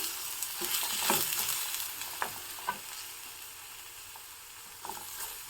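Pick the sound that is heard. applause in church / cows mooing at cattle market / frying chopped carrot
frying chopped carrot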